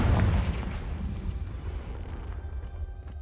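A Confringo fire spell blasts in the Hogwarts Legacy video game: a loud, deep boom at the start that fades into a rumbling tail over a few seconds, with no speech.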